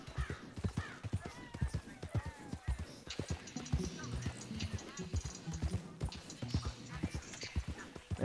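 Hooves clip-clop steadily in the video game Horse Simulator 2019, a brisk rhythmic patter of Tennessee walker horses with a whinny early on, heard under players talking.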